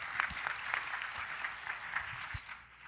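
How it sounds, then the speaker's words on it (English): Audience at the SITE 2019 education conference keynote claps steadily for about three seconds, a dense, even wash of many hands with a few sharper individual claps standing out, moderately loud and filling the room. "Give yourselves a little round of applause"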